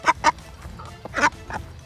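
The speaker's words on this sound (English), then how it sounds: "the pet duck is really into human shoelaces" A pet duck quacks in short, nasal bursts, two quick calls followed by a pause and then two more, close by and fairly loud with no talking.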